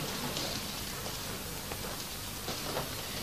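Heavy summer rain pours down in a steady, dense hiss with scattered drops striking a hard surface, loud and continuous throughout.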